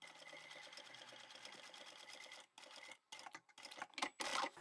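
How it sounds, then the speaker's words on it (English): Sewing machine stitching quilt binding strips along the diagonal on a table runner, a fast even close-up motor whir with a steady stitching rhythm that breaks into short stops and restarts near the end, no voices. "Fold up your table runner and place those binding strips under your machine."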